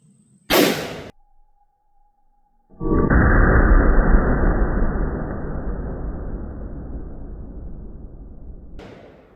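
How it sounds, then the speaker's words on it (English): A single very loud blast from a 460 magnum firing Freedom Munitions big-grain rounds outdoors at targets, followed after a pause by a long rolling boom that slowly fades, with another sharp shot starting at the end. "I'm going to shoot at the bowling pin, the helium tank, just some different things."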